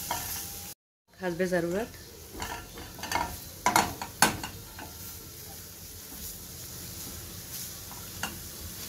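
Chopped onion softening in a pan for a chicken half moon pie filling, a steady sizzle with spoon stirring and occasional clinks against the pan while someone speaks briefly.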